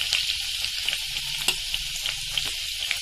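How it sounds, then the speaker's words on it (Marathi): Green chillies fry in hot oil for a Malvani-style drumstick leaf bhaji, giving a loud, continuous close sizzle with light stirring clicks and taps and no speech. "मिरची आता तळली गेली आपली"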